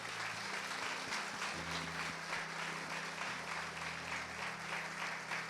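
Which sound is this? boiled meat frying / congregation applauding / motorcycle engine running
congregation applauding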